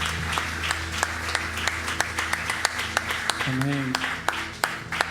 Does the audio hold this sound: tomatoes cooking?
no